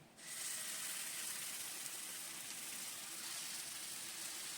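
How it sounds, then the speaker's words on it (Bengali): A spice paste of gram flour, yogurt, coriander, cumin and chilli powder hitting a hot wok, bursting into a loud, steady, even sizzle that holds for several seconds with no voices. "সেই মশলাটা আমি দিয়ে দিলাম কড়াইতে"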